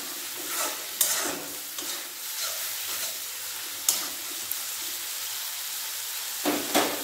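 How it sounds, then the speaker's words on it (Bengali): Spices with kasuri methi sizzle steadily in a hot pan while a spoon stirs them, sharp scraping clicks punctuating the continuous frying hiss. "মশলা ভালোভাবে ভাজা হয়ে গেছে"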